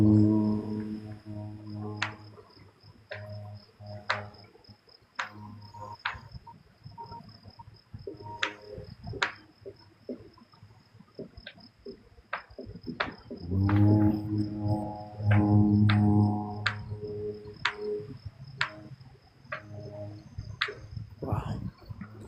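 Frog calling outdoors as repeated clicking croaks in an irregular series, mixed with a steady insect-like drone and low humming tones that swell midway, fairly close and moderately loud with no talking.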